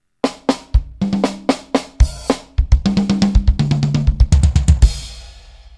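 Drum kit played with deliberate, evenly placed strokes on the snare, close and loud, building from spaced single hits into a denser run of snare and kick strokes that ends on a ringing cymbal crash.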